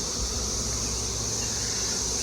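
Bees buzzing around beehives: a steady, continuous hum, moderately faint and unbroken, with no voices.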